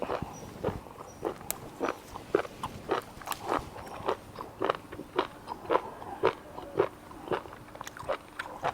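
Fresh chili picked straight from the plant bitten and chewed close up, a steady rhythm of soft crunchy bites and moist chewing over faint background hum.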